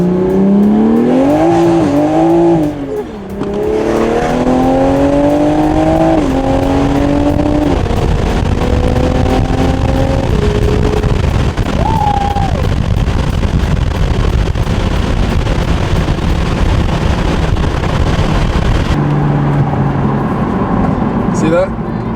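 An A91 Toyota Supra engine revs hard and loud, rising and falling, with crackling exhaust pops, while people talk and shout over the noise.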